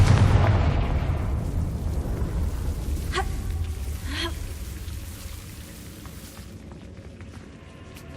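Fiery explosion spell in the video game Hogwarts Legacy, a heavy rumbling blast that slowly decays, with a couple of brief magical chimes.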